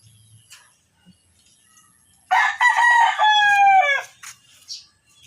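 A rooster crows once, loud and close, a long drawn-out call in an otherwise quiet setting with faint clucks around it.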